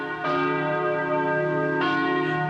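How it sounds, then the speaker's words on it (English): Church bells of Jerusalem's Church of the Holy Sepulchre ring loudly on Good Friday with long sustained tones, two strikes about a second and a half apart, each hum lingering and overlapping. "There were bells, but no worshipers in Jerusalem's Church of the Holy Sepulchre for Good Friday this morning."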